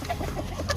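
A chicken gives a few short, soft clucks in a brief burst, heard alone against a low background hum.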